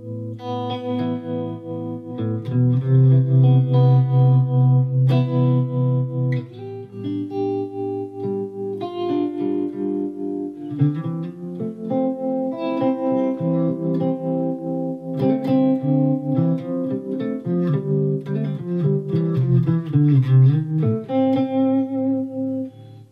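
Sustained electric guitar chords and notes, distorted and shimmering with a pulsing, wavering effect from a Boss TR2 tremolo pedal after distortion, played alone for a long stretch.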